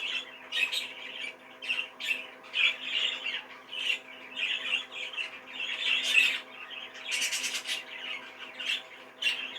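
A young 2024-bred show bird gives repeated harsh squawking calls, close and fairly loud, with a quick burst of flapping near the end and no talking.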